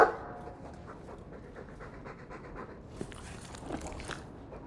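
A Mabari war dog from the video game Dragon Age 2 pants softly in quick, steady breaths. The panting stays fairly faint against the quiet game background.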